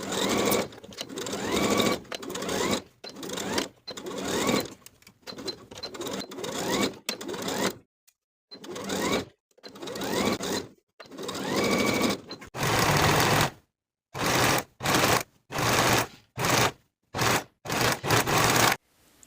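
Sewing machine joins the bottom panel of a summer dress with a half-inch seam, running in many short bursts of rapid stitching with brief pauses between them, loud and close throughout.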